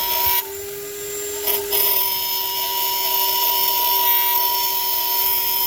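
A loud, steady high-pitched whine from a mini lathe cutting an o-ring groove, with a sustained metallic tone, briefly dipping near the start, continuous and close, no voices.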